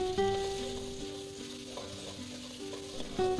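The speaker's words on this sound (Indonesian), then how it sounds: "Tumis-tumis bumbu hingga layu dan juga matang." Ground spice paste fries in hot oil in a wok with a steady close sizzle, while a spatula stirs it, scraping and clattering now and then. Music plays softly underneath, and no one speaks.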